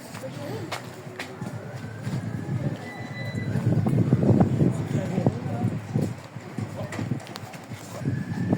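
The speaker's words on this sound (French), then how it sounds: "Et là c'est une calèche." Hooves clop on pavement beneath a horse-drawn carriage's rolling rumble in Aarhus, with people talking nearby over the steady outdoor noise.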